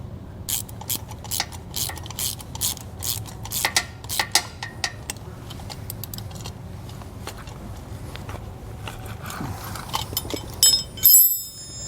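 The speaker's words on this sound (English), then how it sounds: "and then we can tighten it down using our wrench" A wrench tightens a nut over a washer and lock washer during a vehicle accessory install, giving close metallic clicks and clinks in an irregular rhythm, with a sharper rattle near the end.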